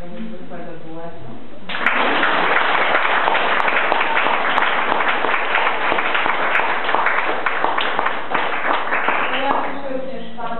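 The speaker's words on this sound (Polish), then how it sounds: "ja bym chciała, żebyśmy jeszcze raz zrobili brawa za tego niezwykłego duetu." An audience at a farewell gathering breaks into sustained, dense applause for a duo, loud and close, rising after a brief stretch of speech and fading near the end.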